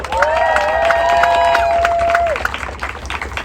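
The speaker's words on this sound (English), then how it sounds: "can we get another round of applause for all the speakers who just went thus far?" Crowd at an outdoor protest rally in Providence claps and cheers, with rhythmic clapping and a long sustained whoop or whistle over the applause before it thins out and fades.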